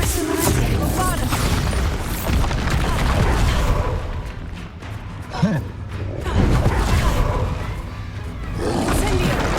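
Spell blasts, crashes and roaring impacts from the Bombarda explosion spell in the Hogwarts Legacy video game, loud and dense throughout, with repeated booming bursts layered over a shouting voice casting spells.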